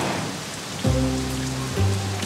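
Rain falls in an animated cartoon scene as a steady, dense hiss throughout, briefly overlaid by low humming tones.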